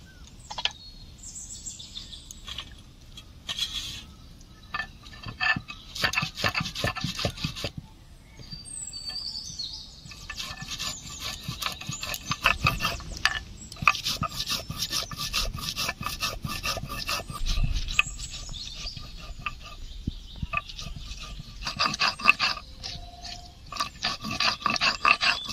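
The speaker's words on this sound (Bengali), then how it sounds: "এই গোটা জিরে আর শুকনো লঙ্কা নিয়েছি" Whole cumin seeds and dried red chillies being ground by hand on a grinding stone, with steady rasping rubs of stone on stone in uneven strokes and birds chirping faintly in the background.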